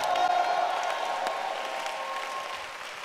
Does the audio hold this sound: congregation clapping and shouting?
yes